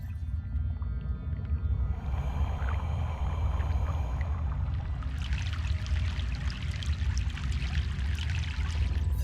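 Paddling a boat across the river in Broken Sword: The Sleeping Dragon: a constant low engine-like drone with splashing, trickling water that swells louder in the second half, steady throughout and without voices.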